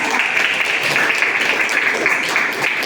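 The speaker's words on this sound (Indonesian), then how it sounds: "Aplaus untuk kelompok 1" Dense applause from a classroom group for the first presenting team, a steady wash of many hands clapping for a few seconds without a break.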